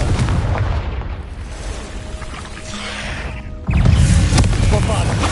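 In Hogwarts Legacy, a blasting spell hits with a sudden loud boom and rumbling burst after a stretch of quieter battle ambience and a shouted spell, and the explosion noise lingers to the end.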